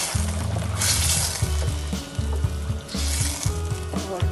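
Potatoes hitting hot spiced masala in a pan, a steady crackling sizzle with intermittent stirring scrapes and a low bubbling hum, close and moderately loud, no talk.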